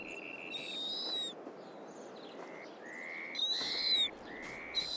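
A white snowy owl calls in an icy, snowy setting, with repeated high wavering hoots and whistles in short bursts over a soft, steady windy background.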